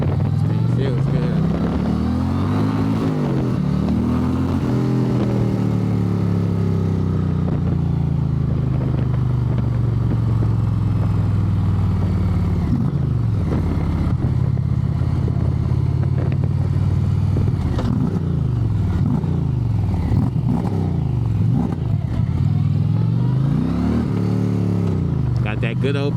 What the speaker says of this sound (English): This Indian Chieftain right here, this Power Plus.